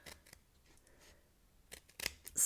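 A sharp pair of scissors makes a few quick, faint snips through paper during Halloween papercraft, short crisp cuts with small rustles between them.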